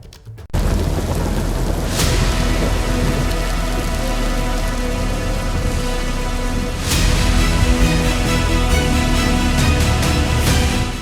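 Steady heavy rain pours down over flooded Delhi, a dense continuous hiss close by with no voices, beginning abruptly and holding loud throughout.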